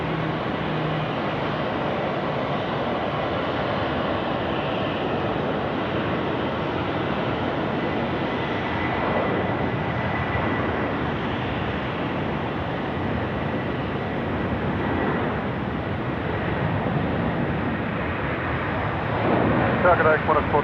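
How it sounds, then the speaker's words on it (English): An Airbus A330 takes off on runway 16 right at Sydney Airport, a steady, broad jet roar that holds level throughout, with radio voices faintly underneath. "So here we go, A330 time now, rolling runway 16 right."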